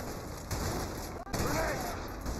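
Gunfire in the video game A Way Out: a dense, steady wash of rapid shots under faint voices, with a brief dip midway before the firing resumes.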